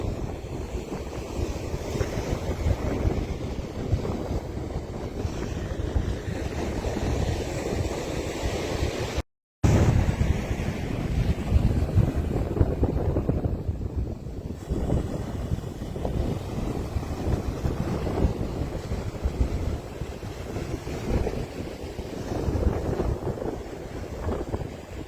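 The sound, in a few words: strong wind blowing at Cocoa Beach pier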